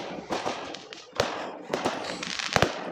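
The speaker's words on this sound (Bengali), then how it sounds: "দেখো আতশবাজি কত ফাটছে।" Fireworks crack and boom in a quick, irregular string of sharp bursts at moderate distance, with faint voices in the background.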